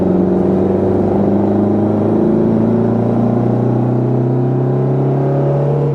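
A modified 1964 Spridget sports car with a five-speed gearbox drives along, its engine giving a loud, steady drone whose pitch rises as the car accelerates.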